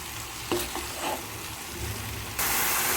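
Methi curry frying in a pan, a continuous sizzle with a few stirring clatters, growing suddenly louder and brighter near the end.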